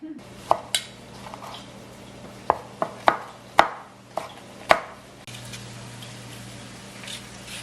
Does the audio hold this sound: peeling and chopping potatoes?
yes